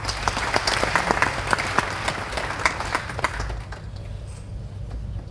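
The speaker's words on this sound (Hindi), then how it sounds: "उसके लिए एक बार ताली होनी चाहिए।" A crowd at a business conclave hall applauds with sharp, rapid hand claps that are loud and close. The clapping thins out and fades toward the end, leaving quieter room noise.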